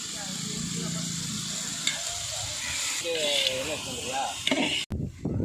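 Tomatoes with rock salt sizzle as they go into a pan of sautéed ginger and garlic for village-style chicken biryani, a steady close hiss with stirring scrapes near the end and a faint voice underneath.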